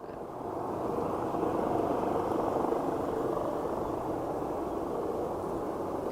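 A steady, broad aircraft engine roar at Aberdeen Airport rises in the first second and then holds at a constant level, like an aircraft idling nearby.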